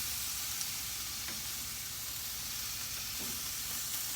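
Baby back ribs sear on a steel griddle with a steady, faint, continuous sizzle and hiss, a few soft scrapes now and then, and no voices.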